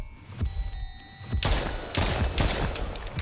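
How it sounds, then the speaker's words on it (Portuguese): Explosive bursts in the horror game Silly Billy: a sharp blast erupts after a quiet hum, followed by further loud cracks and rumbling impacts in quick succession, close and loud with no talking. "Ah, isso, explodiu, explodiu"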